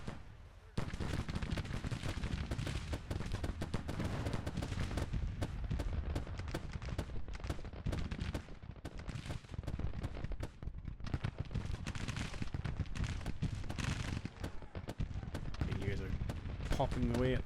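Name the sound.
artillery and gunfire in Grand Tactician video game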